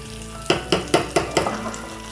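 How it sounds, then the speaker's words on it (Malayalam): Mustard seeds and dried red chillies fry in coconut oil as a tempering for mint chutney, a close, steady sizzle broken by about five rhythmic stirring scrapes against the pan. "ഇനി നമുക്ക് വേണ്ടത് ഇതിൽ ഇത്തിരി കടുക് തളിച്ചിടണം."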